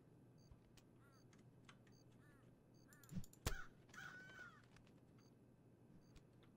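Crows caw a few times at a distance in the Quadrilateral Cowboy video game, faint against a low hum, with a sharp click and a short burst of noise midway.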